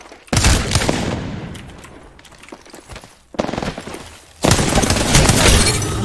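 Gunfire in the video game Apex Legends: loud rapid bursts of automatic shots in separate volleys, with brief pauses between them and heavier firing toward the end.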